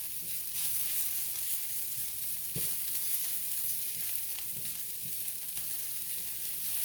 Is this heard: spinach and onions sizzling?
yes